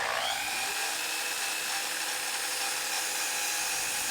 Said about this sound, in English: I take this strip of plywood to the miter saw and follow the same principles.